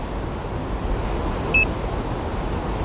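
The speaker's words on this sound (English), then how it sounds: "It gave me a beep, 2 beeps" A Zino Mini Pro drone controller gives a short, high electronic beep over a steady low background rumble.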